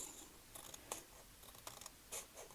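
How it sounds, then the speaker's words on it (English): Scissors cut paper while making fold-over craft tags, giving a quiet run of short crisp snips and scratchy rustles at close range with no talk. "So I'm going to use my scissors"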